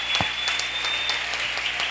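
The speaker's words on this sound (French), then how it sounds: "on acclame le Seigneur pour lui" A church congregation applauds and acclaims the Lord, with steady, fairly even clapping that fills the room and has no talk over it.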